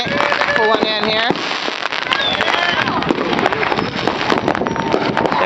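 Fourth of July fireworks at a crowded Long Beach celebration crackle and pop densely and continuously at a moderate distance, with voices talking over the steady barrage.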